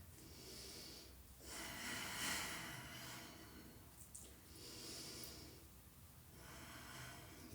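Breathing held during a yoga backbend pose, faint and close, with slow, airy inhales and exhales in an uneven rhythm and an occasional nasal snort-like rasp.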